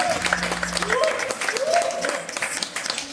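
Applause and cheering from an audience at an IIT Indore esports event greet the FIFA game champions, a moderate crowd clapping steadily throughout with voices mixed in.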